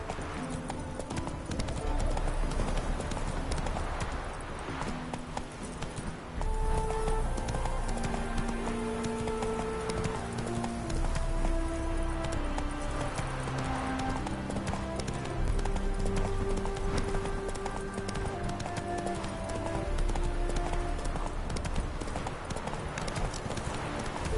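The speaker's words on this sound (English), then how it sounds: "Whoa there, Roach." Horse hooves clip-clop steadily in a video game, a continuous close trotting rhythm running beneath layered game music for the whole stretch.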